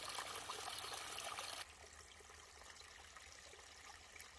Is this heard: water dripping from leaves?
yes